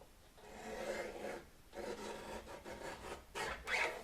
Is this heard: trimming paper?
yes